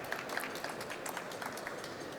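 Audience clapping after a presentation on a hybrid energy lab system, light scattered applause at low level with a few sharper claps standing out.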